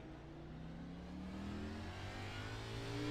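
A race car engine in a racing league at Circuit de Gilles Villeneuve drones and slowly rises in pitch as it accelerates, a steady mid-distance whine with no voices.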